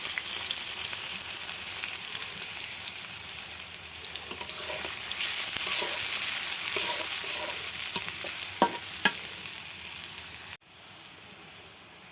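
Onions frying in a pan as the base for a chicken and potato curry, a loud continuous hissing sizzle with stirring scrapes, cutting off abruptly near the end.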